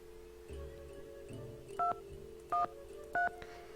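Telephone keypad tones in a Nancy Drew game, three short evenly spaced dual-tone beeps after soft button clicks, over a steady low hum.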